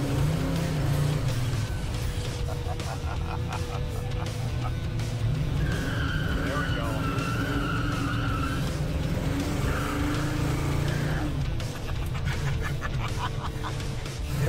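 A 1969 Ford Falcon hot rod running on its line lock, tires squealing in long shrieking bursts over a loud, steady engine roar, heard up close throughout.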